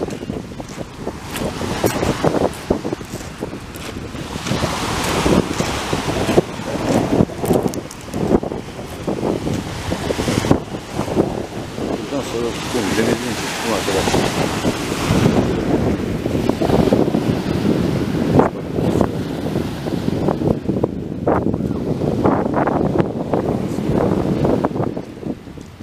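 Continuous surf rolling onto the beach at Fethiye Çalış, with some stones along that stretch of shore, heard as a steady broad wash mixed with gusting wind noise on the microphone, loud and close for the whole stretch.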